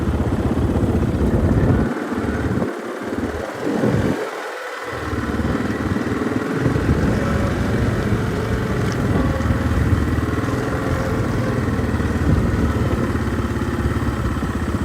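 An ATV four-wheeler engine runs steadily close by in an open rural field, a continuous rough mid-pitched drone with some rattle and a few dips in the low rumble early on, with no talking heard over it.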